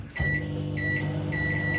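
A microwave oven warming a plate of pasta bolognese runs with a steady low hum and a faint buzzing tone, close by, with no talking.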